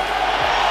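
A large arena crowd at a UFC event roars in sustained cheering for a fighter's shoey, a loud continuous wash of voices.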